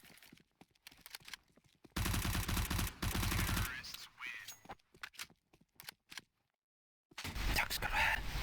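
Bursts of rapid automatic gunfire from Counter-Strike, loud and close, broken by short single shots and brief silences, with faint talk between.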